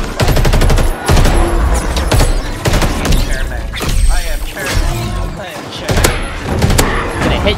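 Rapid bursts of automatic gunfire from Halo combat, loud and close, with dense repeated shots, impacts and thuds, broken by brief pauses and overlapping game voices.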